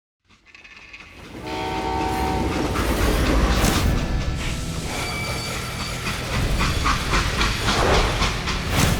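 A steam train in the Old West shooter game Call of Juarez: Gunslinger rolls steadily along the rails with continuous rumbling and clatter, a brief horn-like tone and a hiss of steam, loud and constant throughout.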